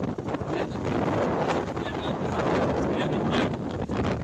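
Strong wind gusts over an open boat on Laguna lake, a loud, continuous roar of buffeting against the microphone that rises and falls without a break.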